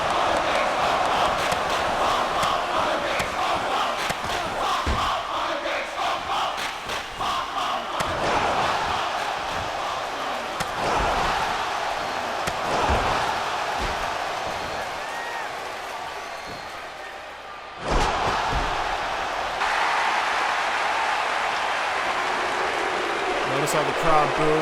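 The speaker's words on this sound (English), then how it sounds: "Notice how the crowd boos when you poke a face in the eye." A wrestling video game crowd roars and boos continuously at loud volume, with a sudden surge partway through, while a commentator talks over it.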